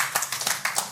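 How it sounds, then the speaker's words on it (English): Light, sparse golf clap from a church audience: a brief scatter of separate handclaps, soft and thin, with no talk over it. "thank you for the golf clap"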